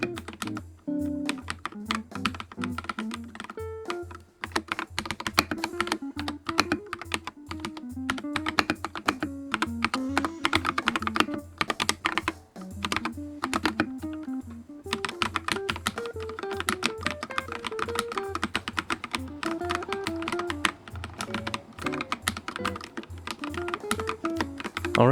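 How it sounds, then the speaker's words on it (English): Steady typing on a mechanical keyboard, keys clacking in quick irregular bursts with brief pauses, close and clear over a faint background of music. "to me this is the best sounding keyboard of the bunch"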